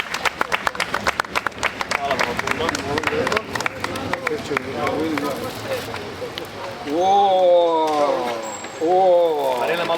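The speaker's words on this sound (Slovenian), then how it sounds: "In prosim, en aplavz" Applause for the guides from a group of the Society of Friends of the Military History Park in Željava: sharp clapping that thins out over several seconds, giving way to voices talking.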